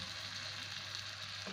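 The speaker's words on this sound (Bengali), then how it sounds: "এরপর দিয়ে দিচ্ছি সামান্য পরিমাণ জল।" A splash of water hits oily frying masala for an omelet curry, producing a short, faint, steady hiss with no voices.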